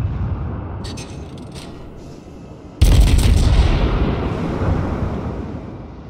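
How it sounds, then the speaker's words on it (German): A heavy broadside of naval gunfire from enemy battleships, an Amagi and a North Carolina, in World of Warships booms loudly after a few faint distant reports, then rolls away in a long, rumbling tail. "Die schießen alle auf mich hier. Amagi und North Carolina."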